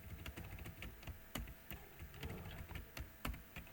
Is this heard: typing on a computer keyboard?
yes